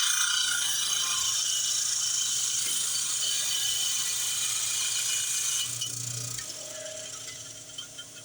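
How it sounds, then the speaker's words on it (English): A metal piece for jewelry making is ground on a rotary tool, giving a continuous high, rasping whir that stays steady and close, easing slightly toward the end. "just grind the top of it"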